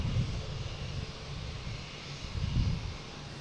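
A JetBlue jet airliner at Boston Logan gives a broad, steady engine roar with low rumbling swells, heard from a distance at moderate loudness.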